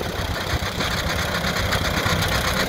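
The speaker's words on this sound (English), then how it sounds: "here's an Alice Chalmers, 1972" A 1972 Allis-Chalmers tractor engine idles outdoors at an antique tractor show, a loud, steady, rumbling chug that holds even throughout with no talking over it.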